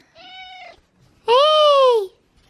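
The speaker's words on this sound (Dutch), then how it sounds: "En de kat zit onder het bed." A cat hiding under a bed meows twice up close: a short, softer call, a pause, then a louder, longer, rising-and-falling meow.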